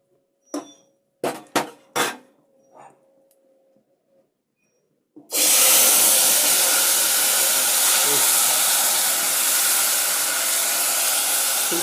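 Mutton pieces hit hot oil with dry red chilli, cumin, bay leaf, cardamom, cinnamon and cloves, bursting into a loud, steady sizzle that runs unbroken after a few short clatters and a brief voice.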